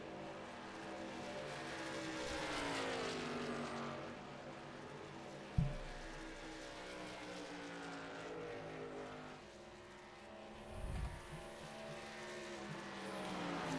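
ARCA and truck race cars roar around the Las Vegas track, a sustained engine drone that rises and falls as cars pass, with a sharp thump and a later surge in the distance.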